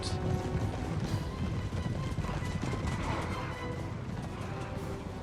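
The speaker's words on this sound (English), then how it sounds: "Big light horse. They want to go after my cavalry." Cavalry horses gallop in the Napoleon Total War battle game, a dense, continuous rumble of many hooves with clattering battle noise throughout.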